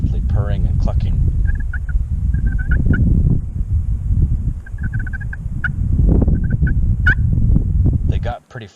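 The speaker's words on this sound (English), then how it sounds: "Somewhere between he and I we heard a gobble" Wild turkeys gobble repeatedly in spring in South Dakota, loud rattling bursts close by, over a steady rumble of wind or engine noise, with softer clucks between calls.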